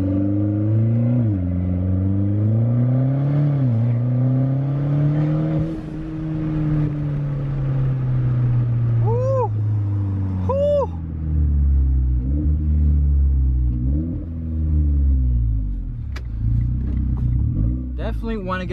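Inside a moving turbocharged car, the engine rumbles low and steady, swelling and easing as the driver accelerates and shifts, while a person talks over it throughout.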